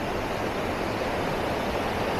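Steady, dense roar of rushing water, loud and continuous as a strong current pours through Madungan Dam, with no voices.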